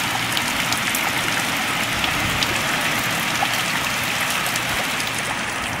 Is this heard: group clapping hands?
no